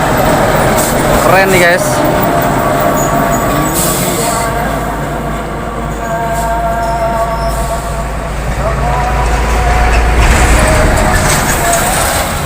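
A DAF CF truck's engine labors up a final steep hill, a loud, close, sustained rumble that swells and eases, with someone talking excitedly over it.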